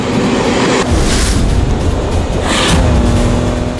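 A 2017 Ford Raptor truck accelerates hard on a dirt surface, its engine roaring loud and close with a steady drone that surges twice, with brief gear-change dips in between.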